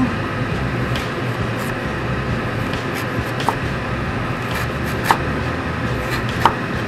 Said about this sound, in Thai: ซอยขิงบางๆ เพื่อที่จะวางก้นหม้อ